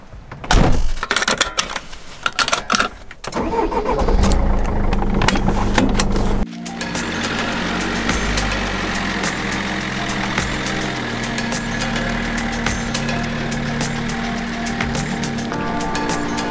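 A camper van on the road: a few thumps and a door closing at first, then a steady engine and road drone continuing throughout, without talking.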